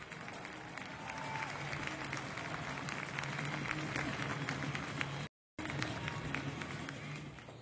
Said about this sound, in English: let's hear a round of applause for Sergeant Josh Coleman.